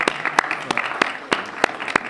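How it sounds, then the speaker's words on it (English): Audience applause at a STEM and innovation welcome reception for a departing congressman, a steady mid-level patter of many hands with a few sharp, distinct claps standing out close by. "let's give him a round of applause just to really recognize him"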